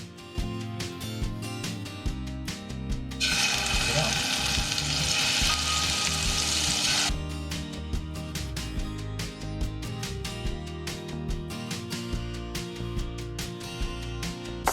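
Seasoned scallops hit a hot pan and sear with a loud, hissing sizzle that swells for a few seconds and then fades under steady background music.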